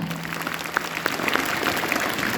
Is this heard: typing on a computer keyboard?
no